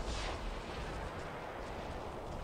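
A robot's weapon fires in War Robots, opening with a heavy blast that turns into a sustained roaring rumble, loud and unbroken to the end.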